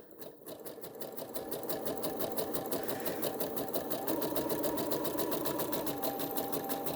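A sewing machine stitches fabric for a small dress, its needle running in a fast, even mechanical rhythm that speeds up from a start and then holds steady, close and loud.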